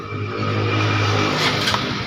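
Honda Supra X 125 fuel-injected motorcycle engine running while being worked on for a stalling fault; a close, steady idle with a slight rev rise near the end, heard alone without talk.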